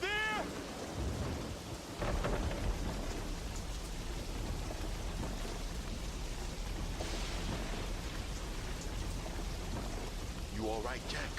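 Thunderstorm and heavy rain in the PS2 game Peter Jackson's King Kong: a steady loud downpour with rolling thunder, as voices call out briefly near the start and end.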